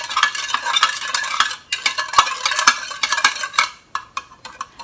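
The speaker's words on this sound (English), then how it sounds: "Then mix well." A soy sauce-based sauce mixed briskly in a bowl, with close, busy clinks and swishes of a utensil that thin into separate taps toward the end.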